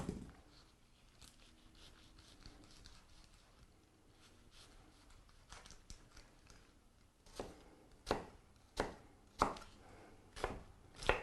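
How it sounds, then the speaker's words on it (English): Knife chopping an onion on a cutting board in a kitchen: quiet at first, then a run of about seven crisp, evenly spaced chops that grow louder over the last few seconds. "Cut your onion."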